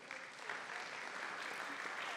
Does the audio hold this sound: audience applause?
yes